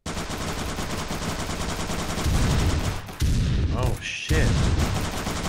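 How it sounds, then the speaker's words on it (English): Heavy automatic gunfire rattles continuously in a shooter video game, loud and dense with brief drops and pauses, while a player briefly exclaims over it. "Where did I just get shot from?"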